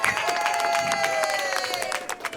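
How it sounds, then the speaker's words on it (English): Audience applause and cheering welcome a female comedian onto a Las Vegas comedy stage, a dense steady wash of clapping that holds for about two seconds, then thins and breaks up as it dies away. "So bring her to the stage with a big round of applause"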